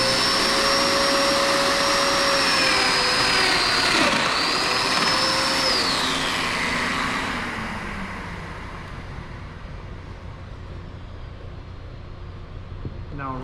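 A plunge router spins up to full speed and cuts into wood while building a face frame, a loud, steady whine that dips as the bit enters, then winds down to quiet.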